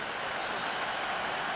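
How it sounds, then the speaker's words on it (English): A cricket stadium crowd applauds during an India vs Afghanistan ODI, a dense, continuous wash of clapping and cheering heard from a distance. "The crowd is electric right now."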